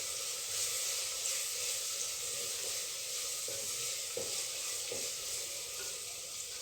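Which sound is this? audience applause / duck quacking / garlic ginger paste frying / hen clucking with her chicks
garlic ginger paste frying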